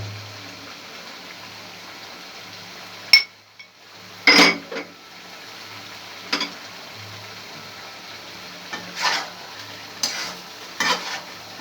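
Potato and cauliflower curry stirred in a pan after garam masala goes in, with a soft steady simmer under scattered scrapes and clinks of the spoon against the metal, a few sharper knocks standing out, and no voices.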